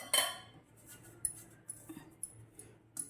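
A spoon spreads oil over a rimmed steel plate, making faint, scattered metallic clinks and light scrapes, with a sharper tap at the start and a few soft ticks after it in a quiet room.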